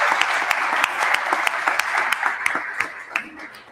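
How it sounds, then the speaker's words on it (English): A conference audience claps in a steady, dense round of applause, with individual claps cutting through the wash, fairly close and loud before it fades slightly at the end. "big round of applause for Tony's efforts"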